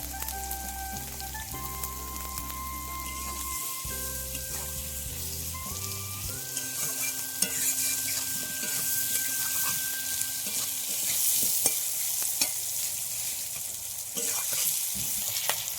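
Spices sauté in a pan for a silver carp and potato curry, giving a steady, close sizzle throughout. Faint tonal background sounds run under the frying during the first few seconds.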